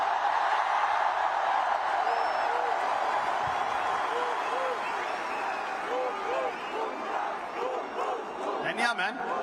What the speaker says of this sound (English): A huge round of applause to Jasprit Bumrah